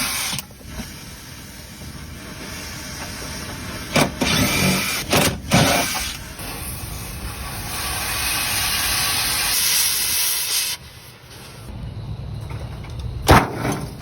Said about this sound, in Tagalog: Ayun na, sinasabi sa hula, umulan na nga.